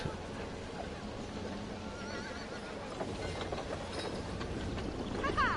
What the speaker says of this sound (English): There's actually horse sound effects and like hooves and everything.